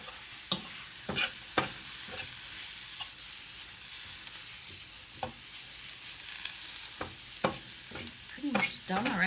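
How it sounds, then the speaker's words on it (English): Stirring a plant-based breakfast mixture in a pan, with repeated scraping strokes spaced irregularly over a soft, steady sizzle from nearby. "just gotta mix this stuff"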